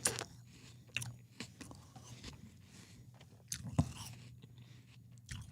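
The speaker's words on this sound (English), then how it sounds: "I was too busy chewing." A person chewing and biting food close to the mic, with soft crunching and mouth sounds in irregular bursts over a low steady hum from radio equipment.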